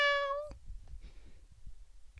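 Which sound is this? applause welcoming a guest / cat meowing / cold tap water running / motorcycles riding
cat meowing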